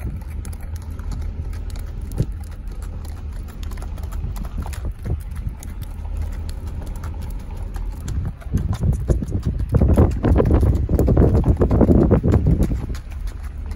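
A horse's hooves clop in a steady, even four-beat gait over ground, continuous and close, growing louder and busier toward the end amid wind-like rumble.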